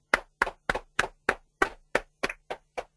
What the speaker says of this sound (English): A big round of applause for Manoj, guys.